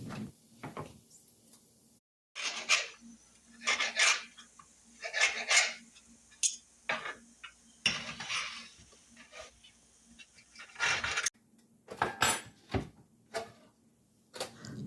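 Knife chopping browned tater tots into smaller pieces, heard as a string of short, sharp, close cuts and taps in irregular clusters, with brief pauses between them.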